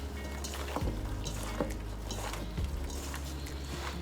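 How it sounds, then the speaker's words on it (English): Chopped vegetables are tossed in oil and seasoning by hand or utensil while preparing a vegetable lasagna. It makes a faint, close, wet squishing and rustling with a few soft knocks against the bowl, and nobody speaks. "I'm just gonna toss all of these vegetables in the oil and seasoning"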